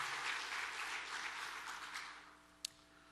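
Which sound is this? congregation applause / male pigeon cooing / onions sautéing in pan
congregation applause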